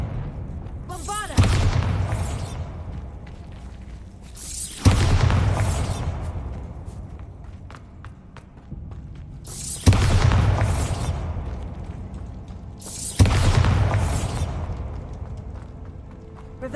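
Four loud, booming blasts from the Bombarda explosive spell in Hogwarts Legacy, spaced a few seconds apart. Each one hits sharply and then rolls off into a long, fading rumble.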